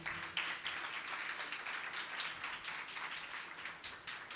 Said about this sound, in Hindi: इस कलाम के लिए हम पुरजोर तालियां बजाएंगे